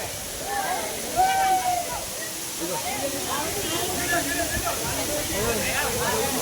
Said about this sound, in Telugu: వేరే సైడ్ నుండి వచ్చిన అక్కడ బాగా వాటర్ పడుతున్నాయి.